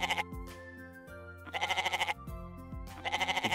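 A goat tied to a banana tree bleats three times in quavering, wavering calls with short pauses between them, close and clear with no talking.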